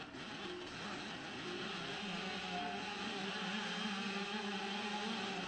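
A car engine in an iPad OpenGL ES racing game drones steadily for several seconds, a continuous mid-level hum with slight pitch shifts and no talk.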